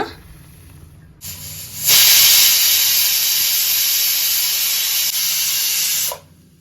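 A pressure cooker holding a millet and quinoa pulao vents its steam in a loud, steady hiss that bursts in after a brief softer lead-in, holds for about five seconds, then cuts off abruptly.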